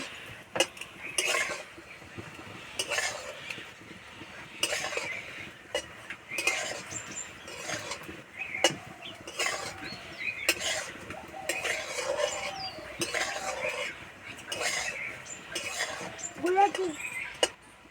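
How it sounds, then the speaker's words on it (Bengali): Sweet potato langcha fry in hot oil over a lowered flame while a utensil stirs them, giving repeated clinks and scrapes against the pan in an uneven rhythm over a faint sizzle. "যতক্ষণ না ভাজা আছে এইভাবে নাড়াচাড়া করবো"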